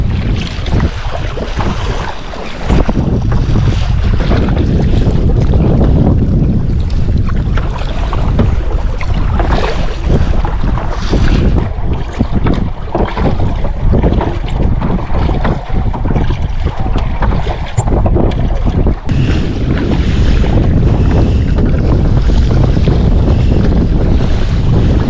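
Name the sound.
wind while paddling on a lake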